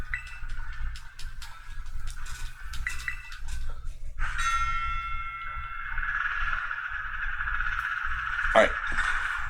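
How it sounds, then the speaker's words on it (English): A bell rings in the Pokemon Scarlet video game, a bright chime among soft game tones that is followed by a sustained ringing tone, with someone talking over the game sounds. "Ring the bell when you're ready to go."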